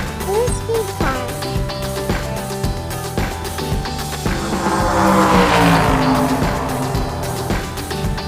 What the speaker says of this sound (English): Blue speed car.